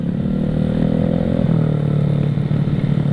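A motorcycle with a newly built engine revs close by with a throaty, rumbling tone, its pitch rising and falling slightly while the machine runs continuously.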